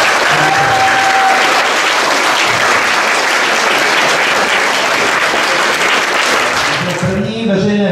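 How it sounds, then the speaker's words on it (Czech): A school crowd claps steadily and loudly for several seconds to welcome a frog mascot at a children's concert, the applause fading out at the end as voices come in. "Zatleskejte jí"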